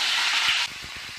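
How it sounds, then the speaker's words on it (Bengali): Fish dropped into hot oil for a light fry gives a loud, close hiss that cuts abruptly to a softer sizzle with faint crackles about halfway through. "এবার মাছটা দিলাম হ্যাঁ মাছটা বেশি ভাজবো না একটু হালকা করে ভাজবো"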